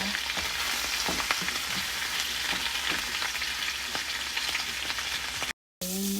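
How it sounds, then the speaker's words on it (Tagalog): Shrimp sauté in a pan for sotanghon, a steady close sizzle broken by scattered ticks and stirring scrapes, then a brief dropout of sound near the end. "Igisa."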